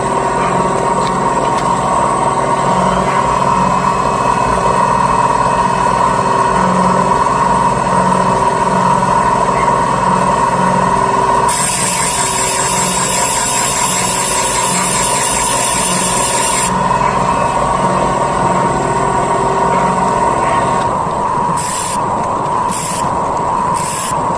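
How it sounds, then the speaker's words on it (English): A steady mechanical whir of a Sioux valve grinder facing Toyota engine valves, running continuously, with a harsher grinding rasp rising in the middle stretch, loud and close, no talking. "let me face these valves in my Sioux valve grinder"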